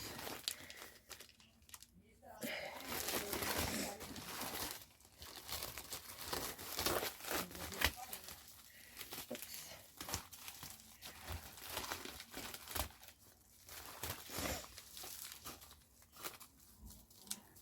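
Paper and plastic crinkle and rustle steadily, with sharp tearing bursts as a package of nail supplies is opened with scissors; a person speaks quietly over parts of it.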